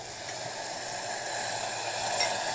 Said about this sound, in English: You get that lovely sizzle.